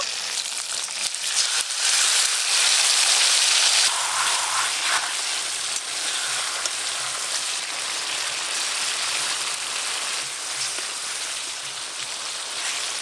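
Onion and tomato paste sizzle steadily in hot oil with fried red bhetki fish, making a continuous crackling hiss that is loudest near the start and then settles.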